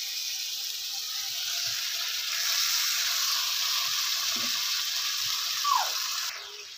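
Mustard and green chilli paste, followed by a splash of water, goes into a hot pan for a mustard fish curry, giving a steady, close hiss of sizzling that swells and then cuts off sharply near the end.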